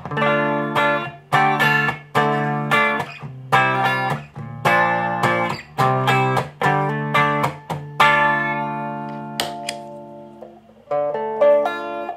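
Clean electric guitar chords strummed in a steady rhythm, each ringing briefly before the next, with a few sustained notes near the end.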